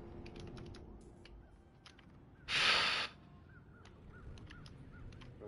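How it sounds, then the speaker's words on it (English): Crows caw repeatedly in the background of a Call of Duty game map, a series of short harsh calls spread across the clip under a steady ambient bed, with a brief loud burst of noise in the middle. "Listen to the birds, bruh."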